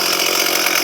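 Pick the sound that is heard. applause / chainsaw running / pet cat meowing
chainsaw running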